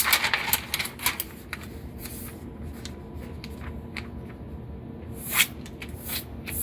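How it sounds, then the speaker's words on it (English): Butcher paper being creased and folded by hand to line a soap mold, giving a run of close, crisp crinkles and rustles with brief sharp snaps, one louder near the end, over a quiet room. "So fold that one, and fold this one."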